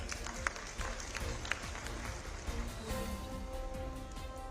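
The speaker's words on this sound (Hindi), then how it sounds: "आप अपने लिए ताली बजाइए" An audience at a Himachal Pradesh government event claps for itself over its vaccination record, producing a steady patter of hand claps with a few sharper claps standing out and a voice faintly underneath.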